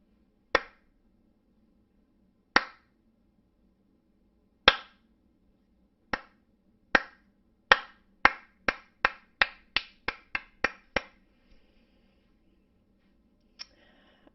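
Church staff giving a slow clap, sharp isolated claps that start widely spaced and steadily quicken into a rapid run before trailing off, clear and close in an otherwise quiet room.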